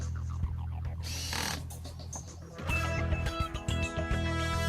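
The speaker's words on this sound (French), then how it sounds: "Utilisez le limiteur de couple de la perceuse." A power drill whirs in short bursts, winding up and cutting off as it drives screws fixing clips for composite decking boards, with a clicking torque-limiting clutch and faint clatter in between.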